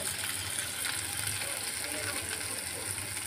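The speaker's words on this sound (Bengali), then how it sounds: "কুচনো পেঁয়াজ দিয়ে দিচ্ছি ভেজে নেওয়ার জন্য" Chopped onions sizzle steadily in hot oil tempered with cumin seeds and whole black peppercorns, a constant close hiss with faint stirring.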